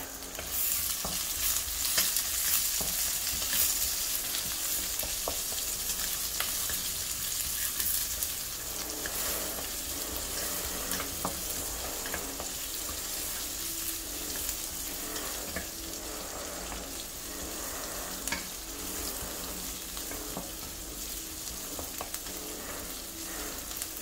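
Onions fry with rock salt in a pan for a tofu curry, giving a continuous, even sizzle that holds steady throughout with no talking.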